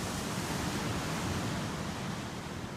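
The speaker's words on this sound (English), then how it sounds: "not too far away hear the crashing waves of the ocean" Ocean surf crashing on the outer shore of a Tuvalu island, a steady broadband roar of breaking waves with no distinct individual breakers, loud and continuous with no talk.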